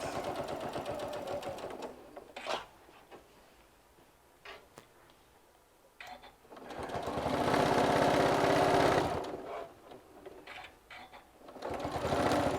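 Sewing machine stitching fabric for an airplane caddy, running in bursts: a whirring, ticking stitch rhythm that stops and starts, with quieter pauses and small clicks between runs.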